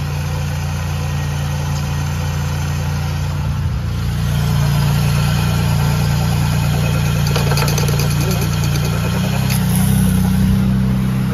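Nissan Sentra B14 engine idling steadily while warming up, a close, continuous low hum that swells slightly partway through.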